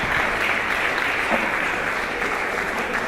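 Steady, dense audience applause fills a conference hall at a French-language event, continuous crowd clapping with no talk over it.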